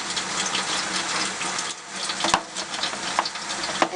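Tap water runs in a steady, close hiss as a face brush is wetted under it, with brief splashes and slight changes as the flow is disturbed.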